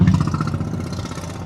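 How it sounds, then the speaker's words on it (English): A motorbike with sidecar passes on a low-speed road in the Netherlands, a loud, close, clattering mid-pitched engine with a steady rhythmic putter throughout. "Oh, look at this, motorbike and sidecar coming on."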